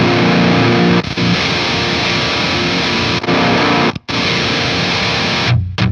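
Heavily distorted electric guitar through a pedal and preamp plays continuously and loudly, thick with overtones, with brief cuts in the sound when switching before resuming.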